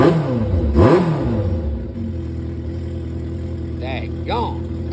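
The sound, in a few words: motorcycle engine revving, cruiser sport bike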